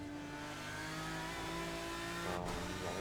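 An Aston Martin DBR9 racing car in a racing video game, engine held at full throttle and rising steadily in pitch, loud and continuous with a brief tire squeal near the end, no voices.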